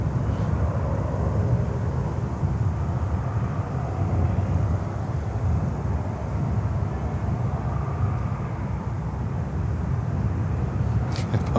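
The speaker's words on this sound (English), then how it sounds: "Oh, that sounds like a Saab." A Saab aircraft taxis at Miami airport, its engine noise a steady, loud, broadband rumble and roar that holds level throughout without pause.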